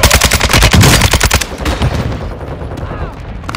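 Rapid bursts of gunfire in Call of Duty: Modern Warfare II rattle loudly for about a second and a half, then fade into a lower rumbling tail.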